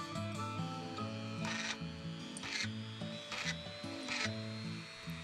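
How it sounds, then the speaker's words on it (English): A drill press bores four holes in a styrene sheet, four short bursts of whining cutting noise set against a constant low motor hum, close and evenly spaced. "I brought my drill press over to my piece of styrene and I used it to make 4 precise holes."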